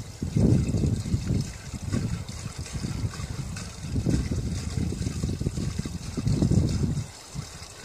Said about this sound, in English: I also use these funnels to drain out the fluids